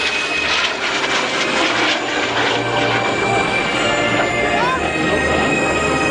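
A propeller airplane trailing smoke at the 2010 Guiscriff air show drones steadily overhead, loud and continuous, with a low engine rumble that swells slightly as it passes.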